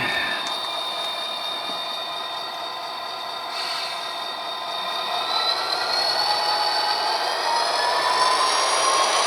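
A GP15 model locomotive runs on a model railway layout, giving a steady, fairly loud motor whine and rolling hum that slowly rises in pitch and intensity over several seconds.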